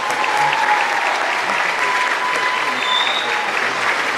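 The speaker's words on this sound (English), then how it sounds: "Let's give another round of applause." Loud, dense applause from the audience at an intermediate school Christmas concert, continuous and close throughout the short stretch, with crowd voices mixed in.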